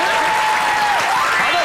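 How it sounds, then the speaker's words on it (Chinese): A studio talk-show audience claps in a short burst of applause, with a voice talking over it the whole time. "很热情，很热情，掌声鼓励一下"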